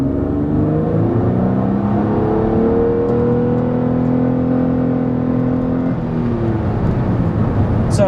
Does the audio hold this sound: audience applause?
no